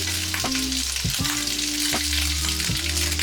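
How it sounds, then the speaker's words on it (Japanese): Bacon frying in a pan for beef bourguignon, a dense, steady sizzle close up, broken by a few scrapes and stirs, with no voices. "フライパンでベーコンをしっかりここは炒めていきます"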